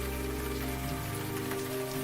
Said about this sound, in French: Il pleut quelques gouttes.